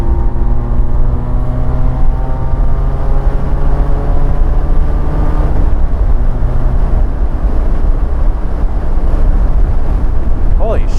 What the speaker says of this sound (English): Holy shit, it's windy.